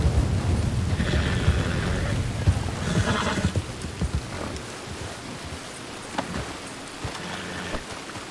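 A horse in Red Dead Redemption 2 whinnies and hooves clop under a steady wash of rain with distant rumbling, busiest early on, then quieter with occasional hoof sounds.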